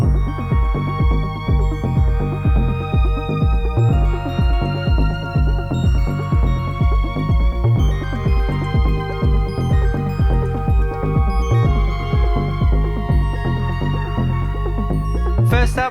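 Polyend Synth synthesizer playing a dense, steady electronic groove with punchy low beats and layered sustained tones, loud and continuous throughout with no talking.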